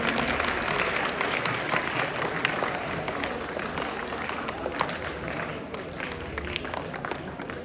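Dense, steady crowd applause fills a Teacher's Day school function hall, many hands clapping continuously at even loudness throughout, with faint voices mixed into the wash.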